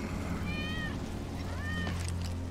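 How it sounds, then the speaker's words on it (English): A cat meows in the video game Final Fantasy VII Remake Intergrade, two clear drawn-out meows, the second rising then falling, fairly faint over a low ambient game hum. "That's Wedge's cat."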